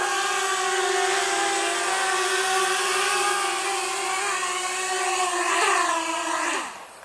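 FeiLun FX127 drone in flight, a loud steady high-pitched propeller whine close by that rises in pitch near the end before dropping away, with no talk.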